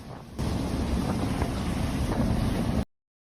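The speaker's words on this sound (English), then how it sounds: "Violent wind surge begins ripping objects off the ground as people desperately try to hold on to their belongings." Violent wind gusts roar in a sustained, loud buffeting rush across the microphone, starting abruptly after a quieter moment and cutting off sharply near the end.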